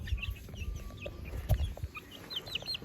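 A purebred chicken clucks softly in short, scattered bursts close by, with other birds chirping faintly in the background.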